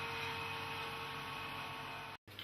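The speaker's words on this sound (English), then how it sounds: "The material tester turns on the vacuum pump control and vents the specimen chamber." A scanning electron microscope's vacuum pump runs with a constant electrical hum and steady mechanical whir, close and unbroken, cutting off abruptly for a moment near the end.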